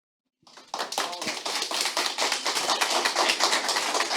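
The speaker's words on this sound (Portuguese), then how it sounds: "Palmas." An audience at a PHP community summit breaks into applause after a cloud computing talk, starting abruptly from silence and swelling into dense, steady clapping from many hands in a hall.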